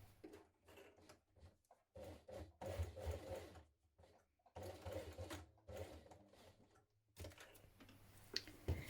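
A sewing machine bastes folded webbing for a strap on a Haralson cross body bag, running in short repeated bursts with brief pauses between runs, moderately close.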